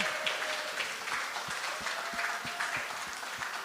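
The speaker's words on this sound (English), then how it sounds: "Can everyone applause for the West Indies team?" Applause from an audience celebrating the West Indies cricket team, a steady wash of clapping with a few distinct sharper claps scattered through it and a faint tone running underneath.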